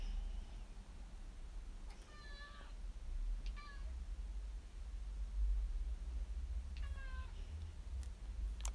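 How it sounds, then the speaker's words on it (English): A house cat meows three times at moderate distance, each a short rising-falling call, spaced a few seconds apart over a low steady room hum. "The cat seems to like interrupting me towards the end of these videos."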